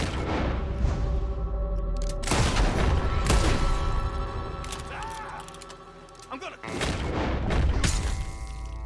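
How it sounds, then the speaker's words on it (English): Gunshots ring out during a Red Dead Redemption 2 frontier duel, a few sharp booming cracks spread across the moment, loud against a steady game ambience with some talk. "I shot the knife out of his hand"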